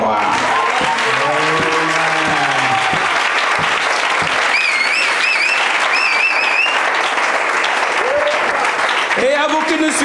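A church congregation bursts into loud, sustained applause with cheering and acclaiming voices, a dense wall of clapping filling the hall while individual shouts and a sung or called phrase rise above it.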